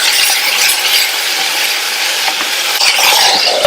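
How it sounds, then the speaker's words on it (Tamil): Chopped tomatoes for an idli-side chutney or kurma sauté in a hot pan, giving a loud, steady, close sizzle with faint stirring scrapes and no talk. "இப்ப நம்ம சேர்த்துருக்கிற தக்காளி எல்லாம் நல்லா வதங்கி வரட்டும்."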